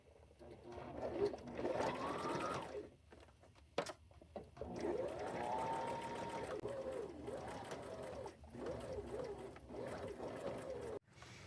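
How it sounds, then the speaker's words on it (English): A sewing machine sews handmade scrap appliques onto bib overalls, humming in long steady runs with short pauses between, close and moderately quiet. "I'm fixing to sew all these appliques on."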